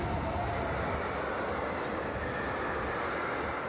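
HGK DE62, a Class 66 diesel locomotive built in 1999, rolls through Brandenburg an der Havel as a steady, dense roar of engine and wheels on rail that holds loud and even throughout.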